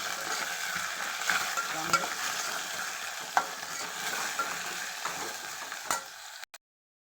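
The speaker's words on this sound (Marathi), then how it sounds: "लसूण पण छान आता पात भात पण छान परतून घ्यायचे" Garlic and green tops sauté in a pan for a village-style tur pod recipe, giving a soft, steady sizzle broken by light stirring clicks and scrapes before it cuts off near the end. No one speaks.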